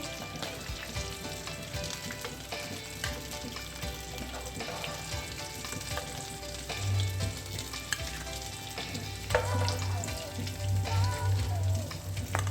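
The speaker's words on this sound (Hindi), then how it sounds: "बाकी के भी मैं फ्राई कर लेती हूँ" White chana kebabs fry in a pan, producing a continuous close sizzle and crackle, with a low hum in the background and a few clinks and scrapes, and no voices.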